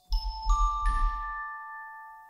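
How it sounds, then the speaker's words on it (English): Orchestra bells (glockenspiel) in a film score percussion track: three bright, struck metallic notes in quick succession, each ringing clearly and decaying slowly into a long sustained shimmer, heard alone. "orchestra bells,"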